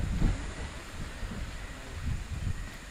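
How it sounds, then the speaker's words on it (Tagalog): Strong wind buffets the microphone with low, rumbling gusts that swell and fade throughout. "grabe itong hangin ngayon"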